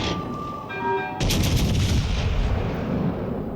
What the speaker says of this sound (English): Secondary booster, hit it. See if these guys, secondaries, do anything.